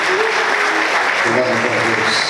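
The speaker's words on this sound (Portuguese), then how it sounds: "Você pode aplaudir Jesus bem forte?" A church congregation claps strongly for Jesus during a sermon, a thick, loud wash of applause with some voices or tones running underneath.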